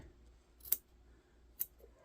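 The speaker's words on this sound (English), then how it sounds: "Get my little squeezer scissors" Small squeezer scissors snip twice, about a second apart, with crisp close clicks over a quiet background.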